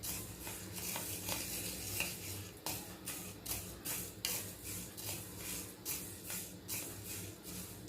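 Urad dal being dry-roasted in a pan, a soft, quiet sizzle with frequent light scraping and ticking from a utensil stirring in a loose rhythm, close up and without voices.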